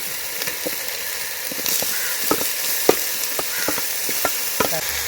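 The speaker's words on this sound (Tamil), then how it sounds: "இப்போ 1/2 கிலோ கறிக்கான இஞ்சி பேஸ்ட்டு பச்சை வாடை போகிற அளவுக்கு வதக்கி." Ginger paste and tomato sauté in a pan for spicy mutton curry, a constant close sizzle broken by repeated sharp spatula taps and scrapes, with no talking.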